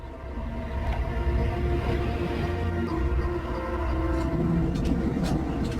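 A steady rumble of a tram rolling along, with continuous low wheel noise and faint high squeals, heard from onboard.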